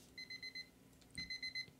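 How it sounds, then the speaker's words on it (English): An alarm clock rings in the video game Cook Serve Forever, giving two bursts of rapid electronic beeping separated by a short pause, faint and alone. "alarm clock"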